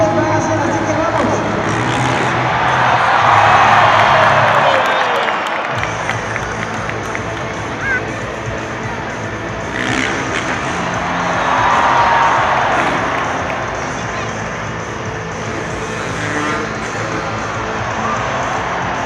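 Large stadium crowd cheering and roaring at a Monster Jam motorcycle show in Argentina, swelling in two loud waves over steady arena noise, with an announcer speaking throughout.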